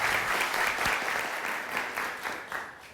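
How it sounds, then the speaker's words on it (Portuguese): Audience applause for a guest at a school event, a steady, dense burst of many hands clapping that holds for three seconds and thins slightly toward the end. "Uma salva de palmas para Evandro Santos."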